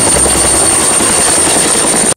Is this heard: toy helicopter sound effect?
yes